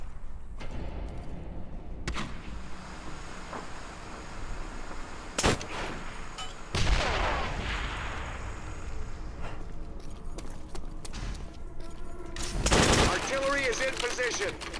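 Artillery and gunfire explode in the WWII shooter Call of Duty: World at War, with loud booming blasts near 5.5, 6.8 and 13 seconds over a steady bed of distant battle noise and scattered shots.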